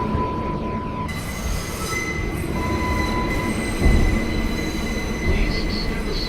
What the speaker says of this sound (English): This is a Crossbound 2 train.